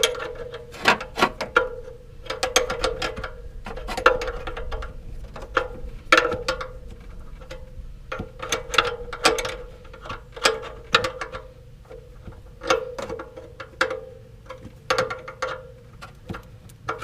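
A Yamaha Super Spanner ratchet wrench turns in bursts, close and distinct, with quick clicking runs separated by short pauses.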